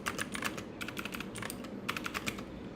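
Rapid bursts of computer keyboard typing in a steady clatter of keystrokes, with short pauses between runs, close and moderately loud over a low background hum.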